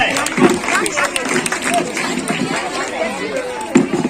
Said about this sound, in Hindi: बिल्कुल सही जवाब, जोरदार ताली हो जाए।